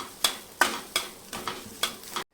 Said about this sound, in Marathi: वरे छान एकाच मिनिटभर मी तुपामध्ये परतून घेतले